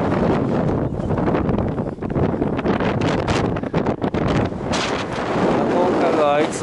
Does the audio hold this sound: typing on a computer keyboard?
no